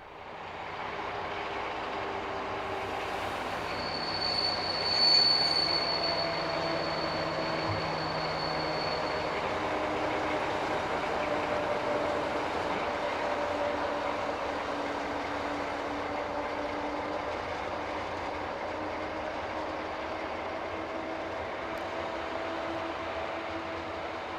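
Former DB Class 212 diesel locomotive number 007, hauling a return train from Dortmund, passes with a steady engine drone and rolling rumble for over twenty seconds, a brief whine and swell near five seconds, moderately distant, no voices.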